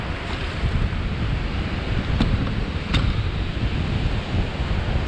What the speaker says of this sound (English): So the winds are blowing in my face